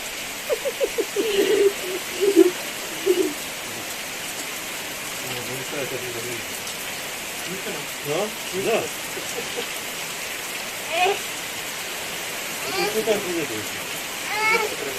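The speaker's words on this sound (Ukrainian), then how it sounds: "Ох, який дощ!" Rain falls in a constant soft wash, while faint voices and a few brief bursts of activity come and go in the background.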